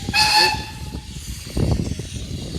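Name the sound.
steam train whistle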